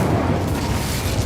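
A brief, dense whoosh and roar of the Incendio fire spell in Hogwarts Legacy, a steady loud burst of flame with no pause or break.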